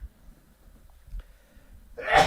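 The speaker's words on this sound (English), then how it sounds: "that's a typical sneeze." A single sneeze bursts out near the end after quiet breathing and a soft inhale, loud and close, rising sharply in the final moments.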